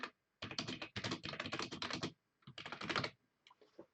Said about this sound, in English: I can type something in this box